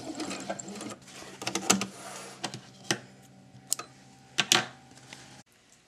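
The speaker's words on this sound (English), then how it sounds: "When you're basting your notches at the machine, you'll want to stitch about 4/8 of an inch from the edge" A sewing machine stitches fabric for an outdoor plastic chair slipcover, with close mechanical clatter in short irregular runs, separated by brief pauses and clicks, ending abruptly.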